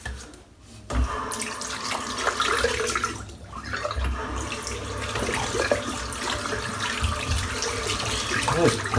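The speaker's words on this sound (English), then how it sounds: "I'll rinse the brush out" Water runs steadily from a bathroom tap while a shaving brush is rinsed underneath, giving a continuous close splashing rush with brief dips in the flow.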